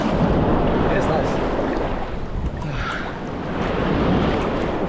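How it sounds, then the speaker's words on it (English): Gentle waves washing onto a beach at Tayrona National Park in Colombia, a steady broadband wash of surf with light wind noise on the microphone, continuous and fairly close throughout. "It's very gentle set of waves on the beach here"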